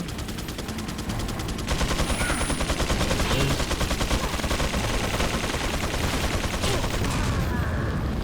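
Resident Evil 4 island combat with dense, continuous gunfire and explosive crackling filling the whole stretch, loud and sustained, where a rocket launcher is being fired.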